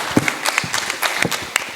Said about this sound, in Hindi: ज़ोरदार तालियों से स्वागत आयुष चराग।